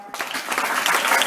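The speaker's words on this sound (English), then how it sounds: "Give a clap for him." School students in a classroom break into quick, lively clapping, a close burst of many hands that builds and stays dense to the end.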